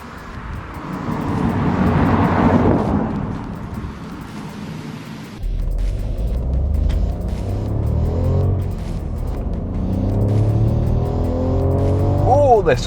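A 2020 Ford Puma ST-Line X engine hums steadily while driving, rising in pitch as it accelerates through several gear changes, with road and wind noise throughout.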